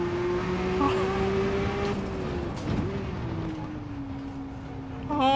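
A Porsche 962C race car engine at full throttle in Gran Turismo 7 drones steadily with a sustained tone that dips and rises as the revs shift, loud and continuous, with a brief flurry of higher notes near the end.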